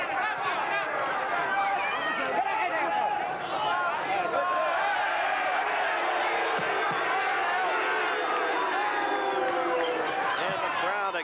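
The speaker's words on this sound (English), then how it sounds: "And the crowd expressing disapproval of Vito's actions." A large arena crowd at a 1980 boxing match between Vito Antuofermo and Alan Minter lets out a continuous, loud roar of disapproval, swelling and rolling throughout while a commentator talks over it.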